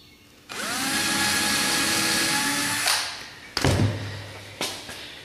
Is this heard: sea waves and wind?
no